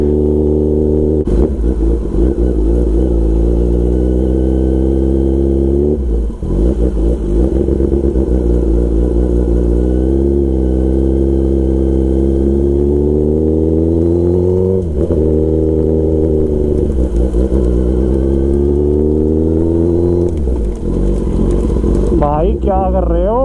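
Superbike engine runs loudly and close for over twenty seconds, a deep steady idle with several throttle blips that rise and fall in pitch, with brief voices speaking now and then.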